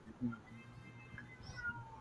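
A cat meows several times in quick succession, faint and somewhat distant, under casual background talk.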